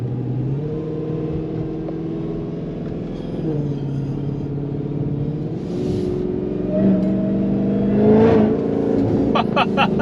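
A cammed Dodge Demon 170 V8 rumbles loud and close, its pitch climbing through hard acceleration with a brief lift and then a stronger surge near the end.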